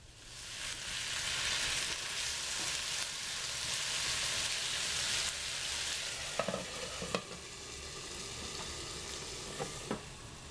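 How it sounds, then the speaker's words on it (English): Potato frying in a pan, a steady dense sizzle throughout with a few sharp pops and clicks of stirring near the end, close and fairly loud with no talking. "Listen to that sizzle, baby."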